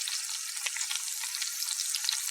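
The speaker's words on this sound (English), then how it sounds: "While fish is frying, gently press the fish down" Fish fries in a pan with a steady, crackling sizzle, soft and even throughout, with no voices over it.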